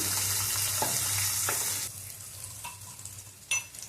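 Onions, green chillies and curry leaves fry in a pan with a loud, steady, close sizzle that eases partway through, broken by a few stirring scrapes and a brief clink near the end.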